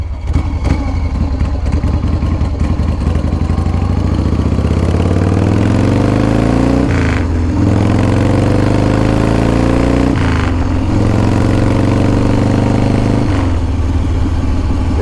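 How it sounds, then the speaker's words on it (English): Custom 2016 motorcycle engine with a dry clutch, running loud and close with a constant rattling chatter, the revs rising and falling a few times across the stretch, no voices. "You hear that slicing? That's the dry clutch."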